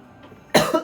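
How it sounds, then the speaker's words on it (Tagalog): A single loud, close cough bursts out after a quiet moment, followed by a brief second cough. "Sabay-sabay tayo umubo."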